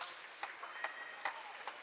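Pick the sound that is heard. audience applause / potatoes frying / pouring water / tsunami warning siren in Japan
audience applause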